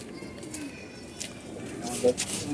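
Caged pigeons coo softly at close range, a few low burbling calls under a man's speech.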